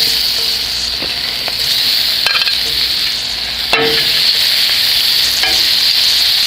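Tequila lime shrimp searing hard in a hot pan, a loud continuous sizzle with scattered utensil scrapes and a sharp clack near the middle, no talking.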